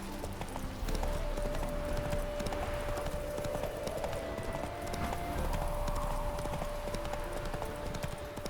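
Roach the horse gallops in The Witcher 3, a steady rhythmic clip-clop of hooves running throughout at moderate level, with a faint snort or whinny and a soft voice briefly over it.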